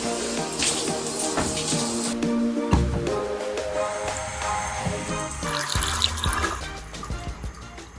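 Shower water running steadily as a dense, close hiss and splatter with drips and squishy splashes, easing somewhat near the end.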